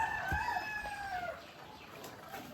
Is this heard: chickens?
yes